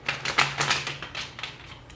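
Tarot cards are riffled in a quick run of crisp, papery snaps and taps, close and dry, with no talking.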